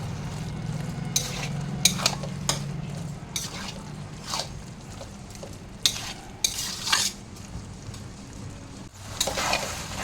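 A dish is stirred in a pan with ghee and garam masala, a spoon scraping and clacking at intervals over a steady low sizzle, close and fairly loud, with no talk.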